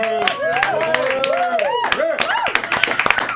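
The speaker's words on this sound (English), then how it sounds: "So give yourselves a round of applause." An audience at a singing show gives a round of applause, heard as a patter of quick claps. A speaking voice runs continuously over it.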